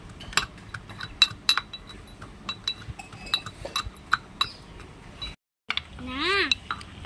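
Raw mango being crushed with a whole green chili and mustard oil, making a series of sharp clinks and knocks of utensil on dish, with a short pause and speech in the background.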